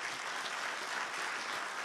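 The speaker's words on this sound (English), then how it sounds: "Can you give these folks a round of applause?" Church congregation applause, a steady, even patter of many hands clapping throughout the brief moment.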